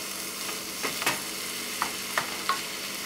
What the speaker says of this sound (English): So now I'm just incorporating the onions into the beef